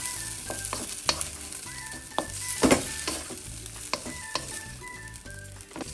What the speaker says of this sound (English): So I'm going to add my pasta now.